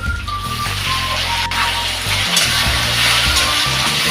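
Grated raw mango goes into a sizzling tempering of spices and asafoetida in a pan, giving a steady crackling fry with low hum and occasional stirring scrapes.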